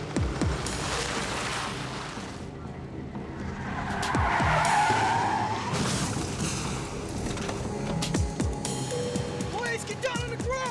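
Car tires skidding during a police pursuit: a loud screech swells through the middle amid engine roar and rumbling traffic noise, with voices over it.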